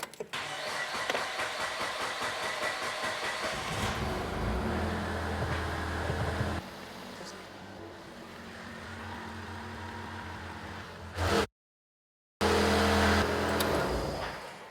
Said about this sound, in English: So it might take a while to start the car because it needs to pump fuel back through the system since we depressurised it.